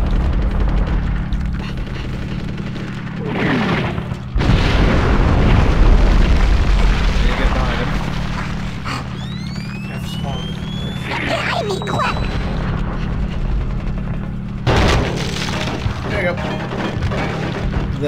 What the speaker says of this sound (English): Bomb falls.